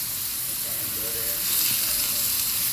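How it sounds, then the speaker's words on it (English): Ribeye pork chops laid into a very hot pan with a little oil give a steady, gentle sizzle, a soft continuous hiss that swells slightly partway through, heard alone. "You hear that sizzle a little bit."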